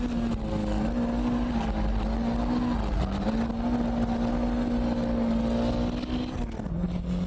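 A Toyota AE86 engine screams at full throttle through a drift, a loud, sustained high-revving wail that holds steady with slight pitch dips, close and continuous with no talking.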